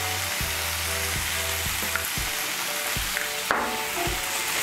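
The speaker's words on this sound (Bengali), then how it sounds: "নুনটা মিশিয়ে নিয়ে বাঁধাকপিটাকে একটু আমি ভালো করে কষিয়ে নেব।" Cabbage with salt and spices is stir-fried in a pan for an egg and cabbage curry, giving a constant sizzle under repeated scraping and stirring knocks, close and moderately loud, without talk.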